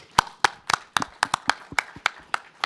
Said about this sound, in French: je pense qu'on peut les applaudir pour le travail qu'ils font au quotidien